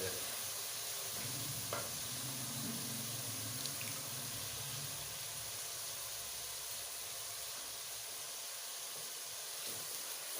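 Yogurt goes into a pan of frying egg masala gravy, bringing a steady close sizzle with wet bubbling and stirring scrapes, continuous throughout.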